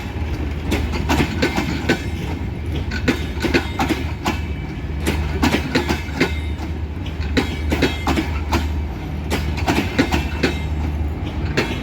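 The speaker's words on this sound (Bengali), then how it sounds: "নম্বর লাইন থেকে ছেড়ে যাচ্ছে ঢাকা অভিমুখে দ্রুতগামী এক্সপ্রেস।" An express train pulls out of Akkelpur railway station toward Dhaka, its wheels clattering in a steady, loud rhythm over the rails with a continuous low rumble and occasional sharp metallic clanks close by.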